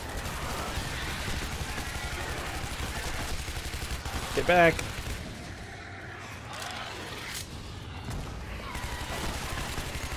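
Uzi gunfire in the 2013 video game Shadow Warrior, dense automatic bursts mixed into constant combat noise across the whole stretch, with someone talking over parts of it.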